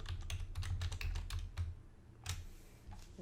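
Rapid bursts of computer keyboard typing, close and crisp, with a short pause before a final few keystrokes.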